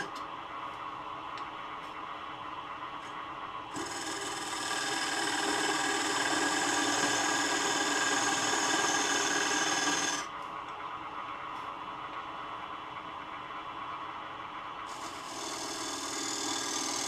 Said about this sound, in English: That unusual whirring sound you hear is caused by the rear bearing on the spindle not being held firmly in place by the black handle